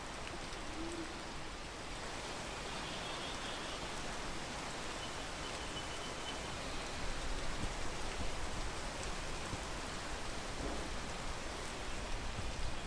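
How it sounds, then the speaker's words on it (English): Rain pours down in the climbing video game Peak, a constant broadband hiss that holds for several seconds and swells slightly louder partway through, with no talking. "Wait for the rain. The rain will mess up my stamina too much."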